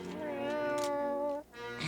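Drawn-out cat meow in an animated Christmas film, a single tonal wail rising and falling, fairly close and clear before it fades out.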